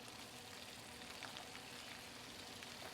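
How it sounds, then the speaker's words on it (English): Smoked bourbon bacon pan-frying, giving a steady, even sizzle and crackle that stays faint and close throughout with no talking. "We're just pan frying up."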